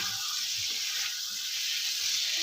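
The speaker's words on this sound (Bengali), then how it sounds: "এবার এটা বেশ কিছুক্ষণ কষাতে হবে যতক্ষণ না মশলা থেকে কাঁচা গন্ধ চলে যাচ্ছে" Spice paste sautéing in oil with bhetki fish bones gives a steady, close, even sizzle that hisses on without pause, with no talking.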